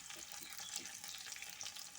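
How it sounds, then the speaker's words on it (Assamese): Prawns frying in oil make a faint, even sizzle that crackles continuously without pause and with no voices. "অকণমান সময় ভাজি এইখিনি উঠাই ল'ম।"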